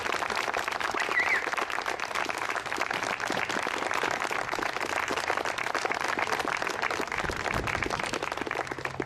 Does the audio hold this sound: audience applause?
yes